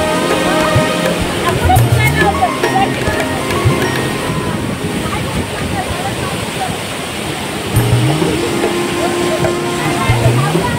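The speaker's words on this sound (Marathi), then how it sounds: "बघा किती फोर्स आहे या धबधब्याच्या पाण्याला." Powerful rush of the Asaniye waterfall in the Konkan near Sawantwadi, a loud continuous roar of falling water with wind buffeting the microphone and faint voices beneath it.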